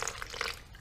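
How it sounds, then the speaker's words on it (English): Water trickles briefly into a barbecue chicken marinade made from a Tesco bucket barbecue kit, a close, quiet pour lasting under a second. "I'm just going to add some water into that."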